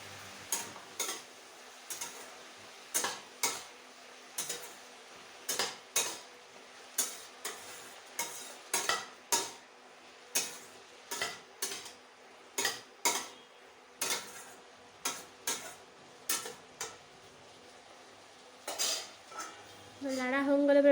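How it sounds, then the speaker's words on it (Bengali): A spoon stirs salt into a pot of water before dal and rice go in, knocking against the metal in a steady run of about thirty sharp clinks roughly every half second, close up with no talk. "ভালো করে লেড়ে নেবো।"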